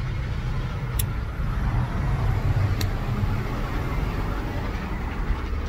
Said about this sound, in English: Like, this traffic is mad rude.